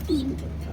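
A single short, soft coo from a foreign racing pigeon in a loft, brief and fairly near against a low background hum.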